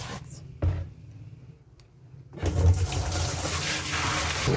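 Water gushing out in an African village after a quiet pause, a sudden steady rushing flow that stays loud and continuous to the end, preceded by a brief splash.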